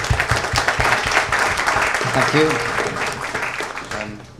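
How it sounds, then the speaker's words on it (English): Applause from a film festival panel audience, a steady wash of many hands clapping at moderate volume, with someone speaking over the tail end. "please give everybody a round of applause"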